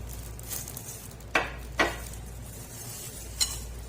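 Tomatoes, peppers and dill frying in oil in a pan are stirred in three distinct scraping strokes over a faint, steady sizzle, close up and without speech.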